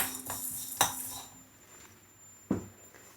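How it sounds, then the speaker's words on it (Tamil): Dried ginger and coriander are dry-roasted in a pan, heard as a few sharp metallic clinks and scrapes of a utensil against the pan, spaced out over quiet stretches, with no talking. "இது மாதிரி லைட்டாக வறுத்துக்குவோம்"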